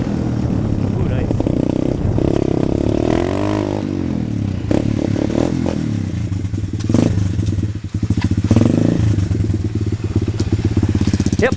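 Pit bike engine running and revving up and down, with sharp crackling backfire pops and clattery mechanical noise close by, rising and falling pitch across the stretch.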